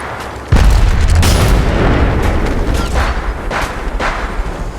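Heavy gunfire from the mobile battle royale game Apex Legends Mobile, with a loud booming burst starting abruptly and sustained rattling shots continuing close and dense throughout.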